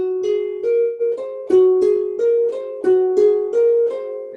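Harp passage played with fingers 2, 3 and 4 replaced at the same time, in a masterclass setting: a steady run of plucked notes, about a dozen evenly paced, close and clear with no talk.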